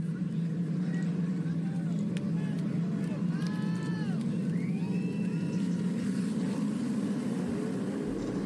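SRX race cars accelerate together at a green-flag restart at South Boston Speedway, a dense, continuous roar of engines with whining pitch sweeps as cars pass. A commentator's voice runs over the noise.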